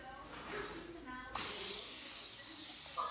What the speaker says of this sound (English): You're going to spray it down.